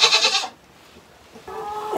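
A sick goat recovering from goat polio bleats loudly up close in a wavering cry, then falls quiet before a second, steadier bleat begins.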